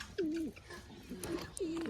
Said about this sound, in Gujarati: બે કબૂતર બેઠા છે